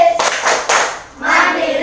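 A classroom does the PPK clap routine, with several quick rounds of close, loud clapping, a short pause, then a further stretch of claps mixed with voices.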